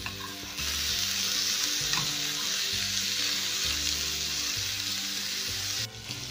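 Corn kernels frying in a pan for huevos rancheros, stirred briefly: a steady bright sizzle runs throughout with soft scraping stir sounds, close and continuous with no talk.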